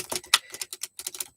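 A large tarot card deck is shuffled by hand, producing a quick run of crisp papery clicks and riffles, close and clear with brief gaps.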